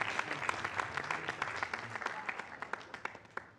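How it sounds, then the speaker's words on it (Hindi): Applause from a student audience at an exam-themed education event, a fairly quiet but clear crowd clapping with distinct individual claps audible in the mix, no talk over it. "तालियों से इनको आपको विदा करना है।"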